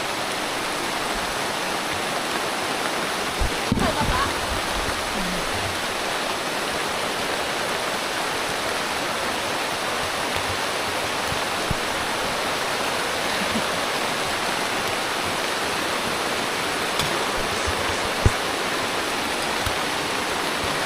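Heavy rain pours down on a mountain climb on Mt. Malinao in the Philippines, in a dense, constant roar, with a few faint knocks and thuds now and then underneath.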